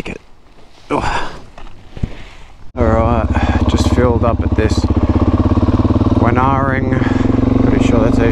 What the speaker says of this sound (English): I'm on a bloody motorbike.